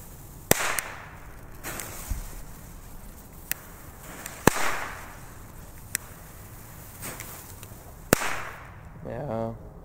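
Small WECO mini firecrackers pop one at a time, several sharp cracks spaced a second or two apart against quiet outdoor background, with a voice near the end.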